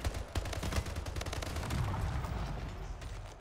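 Machine gun fire in the first-person shooter Splitgate, rapid bursts of shots rattling across the clip at moderate, somewhat distant volume with no talking.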